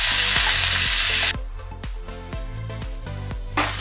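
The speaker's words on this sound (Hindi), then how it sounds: "तेल अभी ये गर्म हो चुका है, इसमें हम ये हल्दी भून लेंगे।" Fresh raw turmeric frying in hot oil in a kadhai over a slow-to-medium gas flame: a dense, loud sizzle at first, then it settles into a steady crackle punctuated by repeated clunks of stirring against the pan.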